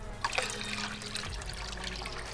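Water poured from a fish net box full of guppies into a shark catfish tank, a steady close splashing trickle with small drips and gurgles throughout.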